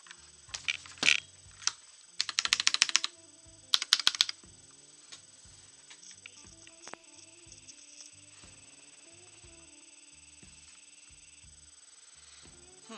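Bursts of typing on a computer keyboard, quick clusters of clacking keystrokes near the microphone, separated by pauses with a few isolated taps against a quiet room hum.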